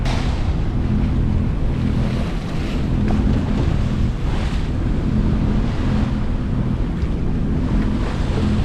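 A sailboat under sail with its engine off and wind vane steering, crossing toward the Kattegat on a cold day, with steady loud wind rush and surging waves against the hull throughout, no voices.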